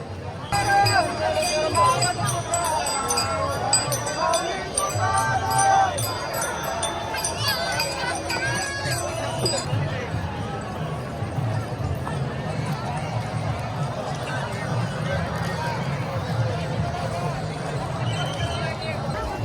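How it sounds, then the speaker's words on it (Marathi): Dense crowd hubbub of pilgrims gathered at the Chandrabhaga river in Pandharpur during the Ashadhi Ekadashi wari, many voices blending in a steady roar with scattered nearer shouts, busiest and loudest in the first half. "पोचलेलो आहे चंद्रभागेजवळ गर्दीच गर्दी खूप गर्दी आहे"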